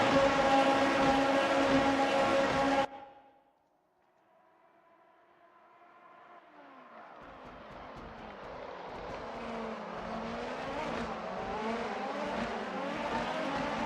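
Racing cars in a Formula-style video game race at Fuji roar loudly for the first three seconds, cut to near silence, then engine whine builds steadily as several cars sweep past in a dense, rising drone.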